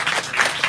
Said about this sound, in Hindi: ताली पूरी बजनी चाहिए